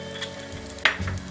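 Spices and bay leaf frying in hot oil in a pan for baingan bharta, a steady close sizzle with a brief sharper crackle partway through, no talking.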